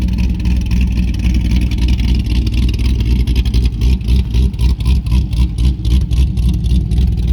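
A loud 2008 C6 Corvette engine drones and rumbles up close while driving in snow, with rapid pulsing as it revs and strains, joined by a rough buffeting noise.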